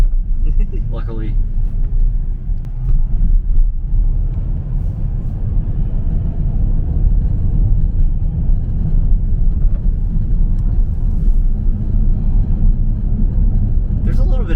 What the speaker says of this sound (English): There's a little bit of tire noise.